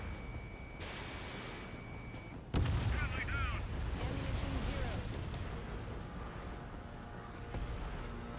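A missile strikes its target in Ace Combat 7: Skies Unknown with one sudden loud blast, followed by a rumbling tail under steady jet-engine noise and radio voices.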